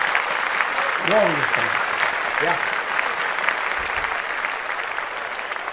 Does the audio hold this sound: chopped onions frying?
no